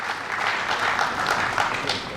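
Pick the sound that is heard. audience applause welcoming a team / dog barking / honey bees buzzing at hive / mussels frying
audience applause welcoming a team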